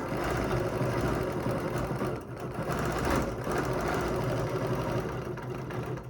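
A sewing machine stitches straight across a quilt, a steady, fairly loud motor whir with fast needle chatter that runs throughout with only a slight dip partway.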